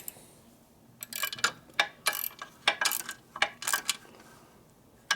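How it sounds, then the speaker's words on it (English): Torque wrench ratcheting on engine case bolts of a 1972 Harley-Davidson Ironhead Sportster during a motor rebuild, a series of close, crisp clicking bursts in irregular rhythm, with no talking. "I usually like to do the final torque on the top two bolts here."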